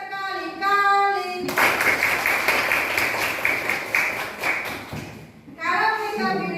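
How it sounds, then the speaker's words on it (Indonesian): A classroom of children claps their hands repeatedly in a fast, steady burst lasting several seconds, loud and close, bracketed by a teacher's voice before and after. "Tepuk berkali-kali."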